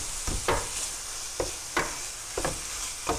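Vegan sausage stirred and broken up in a hot frying pan, several distinct scraping stir strokes over a steady close sizzle, no voices.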